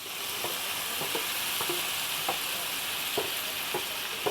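Meatball sauce returned to a hot pan after browning the meatballs, a continuous loud sizzle with a spoon scraping and stirring at regular intervals, no talk.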